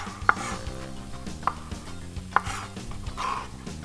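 Three sharp knife chops ring out against a cutting board at steady intervals as ingredients are finely cut for a lentil, chickpea and orzo salad, with a soft background hum and no talk.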